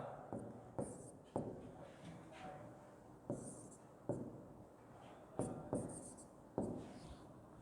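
Chalk or marker strokes on a classroom board during a reasoning lesson, with short scratchy bursts in an irregular rhythm and brief pauses between strokes, close and clear.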